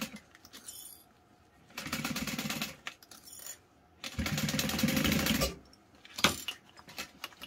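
A sewing machine stitching along a seam line runs in two sustained bursts of fast, even mechanical rattling, separated by quiet pauses and a few small metallic clicks, close and clear.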